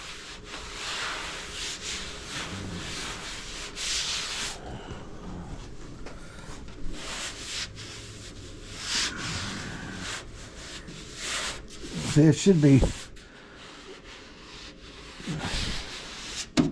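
Steady rubbing and scraping of sanding body filler on a panel, repeated in strokes with pauses, with a brief louder scrape near the end and a few spoken words.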